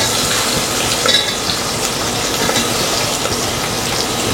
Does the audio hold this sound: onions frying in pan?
yes